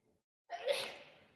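A single quick sneeze bursts out after near silence, sharp at first and trailing off, somewhat distant and quiet.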